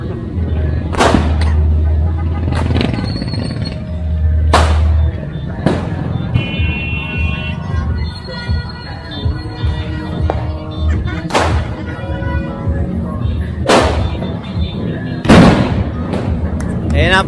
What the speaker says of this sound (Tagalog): Grabe lalakas ng mga paputok.